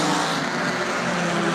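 Field of race cars at the Rolex 24 At Daytona sweeping past as a continuous, loud, dense engine roar that holds steady for the whole moment with no gaps.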